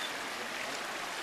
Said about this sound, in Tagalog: nandito na ulit tayo sa kaninang ilog